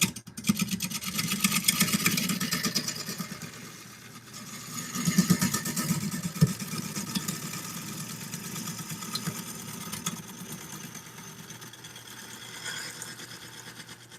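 A wood lathe taking a scraping cut on a turned wooden bowl: a steady, close whirring hum with a rough rasping that swells and eases in repeated passes.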